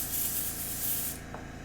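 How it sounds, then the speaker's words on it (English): An airbrush sprays paint from directly above onto Warhammer Warcry terrain, giving a close, steady hiss that cuts off near the end, leaving a softer background airflow. "we'll spray a little extra from kind of directly above"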